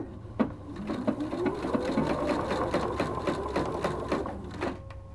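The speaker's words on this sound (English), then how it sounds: "put it under here, and I am going to sew that." A sewing machine stitches through a folded fabric scarf, its motor whirring steadily and close by for the whole stretch, with a brief click near the start and no voices.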